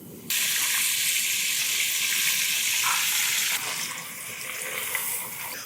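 Butter dropped into a pan on maximum heat bursts into a loud hissing sizzle that holds steady, then eases slightly partway through while continuing to crackle nearby.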